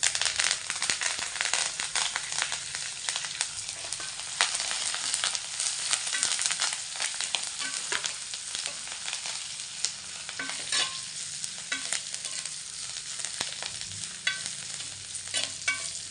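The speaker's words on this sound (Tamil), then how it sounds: "இப்போ இதே எண்ணெயில் கருவேப்பிலையை சேர்த்துக்கலாம்." Curry leaves fry in hot oil with a steady, crackling sizzle and scattered sharp pops, continuous throughout, close and fairly quiet, with no talking.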